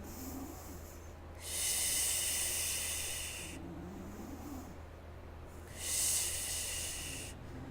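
Two slow, deep breaths during a yoga twist, each a long airy hiss that swells and fades, spaced a few seconds apart over a quiet steady hum.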